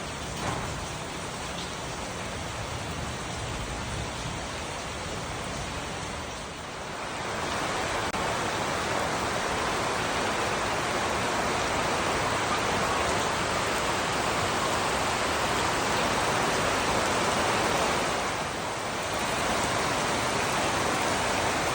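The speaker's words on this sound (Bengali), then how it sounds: "মুষলধারে বৃষ্টি, মুষলধারে।" Torrential rain pours down steadily outside a village home, a dense, even hiss with no pauses, continuous and fairly loud throughout.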